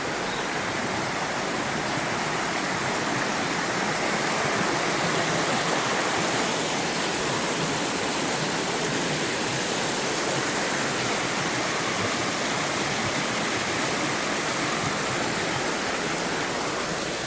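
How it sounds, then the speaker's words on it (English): A river rushes steadily over rocks at a washed-out hiking trail crossing in the Great Smoky Mountains near Cosby, Tennessee, its dense broadband roar close and continuous throughout with no voices. "Looks like we got a couple different river crossings here now."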